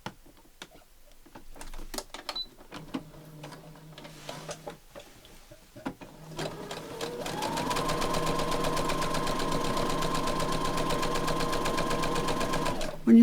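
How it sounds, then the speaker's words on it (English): Sewing machine stitching a patchwork tablet pouch: a few short stop-start bursts of stitching, then a long steady run of rapid needle clatter that grows louder and continues without talk. "So let's sew that in."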